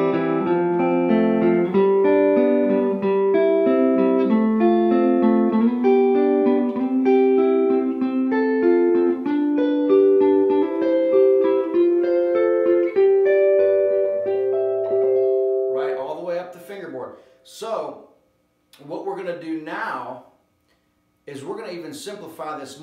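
Guitar playing triads that climb up the fretboard, a run of clear picked notes and chords stepping upward for about fifteen seconds, followed by someone talking.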